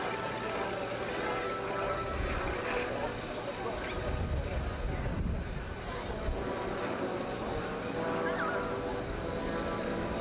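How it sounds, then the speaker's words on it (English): A torpedo bomber with a big Bristol Pegasus nine-cylinder radial engine makes a graceful pass at a Wales airshow, its steady engine drone carried beneath continuous commentary. "Big Bristol Pegasus 9-cylinder engine up the front there"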